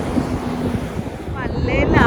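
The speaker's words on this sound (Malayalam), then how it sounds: "കാറ്റുകൊണ്ട് നടക്കാൻ പറ്റാത്തൊരവസ്ഥയാണ്" Strong wind buffets the microphone on the Jebel Hafeet mountain top, a steady rough roar throughout with faint voices briefly audible near the end.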